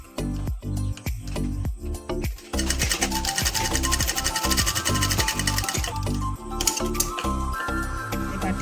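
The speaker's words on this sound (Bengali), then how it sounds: "আমি মেশিনে সেলাই করে দিচ্ছি।" Sewing machine stitching the hem of a cotton umbrella frock, rapid rhythmic mechanical clatter in bursts, with short pauses between runs and a faster continuous stretch in the middle, close and clear.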